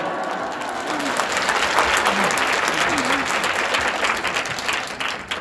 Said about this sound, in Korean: 우리 박수로 목사님 맞이하겠습니다